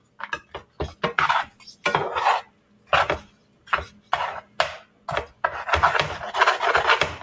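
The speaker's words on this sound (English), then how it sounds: "You know, you gotta make sure you scrape around a little bit." A utensil scrapes and rubs around the bottom and sides of a pot while melting food is stirred, in repeated rasping strokes with short pauses between them, close and fairly loud.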